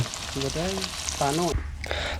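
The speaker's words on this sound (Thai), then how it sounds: "ค่อยๆทอดไปทีละนิดทีละน้อย" Fish sizzles in hot oil for Lao-style fried fish wraps, a steady close crackle with brief tonal, voice-like sounds over it.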